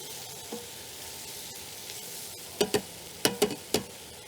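Mushrooms cooking in a pan, with a quiet background sizzle broken by a few sharp stirring clicks and scrapes, clustered near the end.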